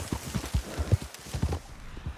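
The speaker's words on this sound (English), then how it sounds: "Why is there a wild horse?" Wild horse in the Red Dead Redemption 2 video game, with a quick run of hoofbeats clopping at moderate volume, no clear whinny standing out.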